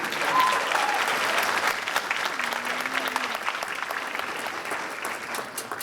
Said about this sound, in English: our high schoolers want to give you a round of applause, middle school